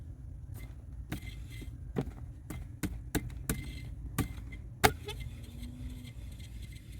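A faulty blower motor fan in a Jeep Wrangler TJ runs on low with a faint hum, broken by sharp, irregular knocking clicks about every half second, close and dry.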